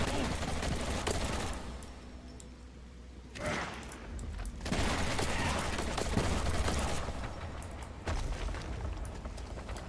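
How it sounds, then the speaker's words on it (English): Rapid gunfire in the video game Postal 4, a continuous loud fusillade of fast shots with booming hits, briefly thinning before resuming at full intensity. "This rate of fire is nuts."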